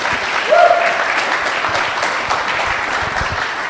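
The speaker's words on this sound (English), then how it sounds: "let's give them a round of applause, please" A loud, sustained round of applause fills a hall after a debate on the existence of God, with dense clapping from many hands and a brief whistle or cheer early on.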